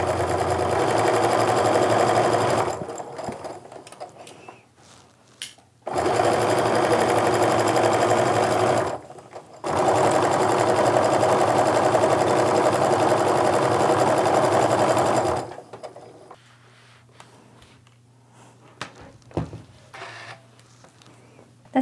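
A sewing machine stitches a quilt block seam in three long, steady runs of close, even whirring with short stops between, then falls to a quieter hum.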